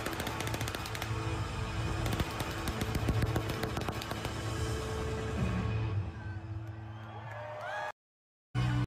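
Staged gunfire at a concert: dense, rapid crackling bursts like automatic shots ring out over a loud live-show roar, sustained for several seconds before a brief cut to silence and a return.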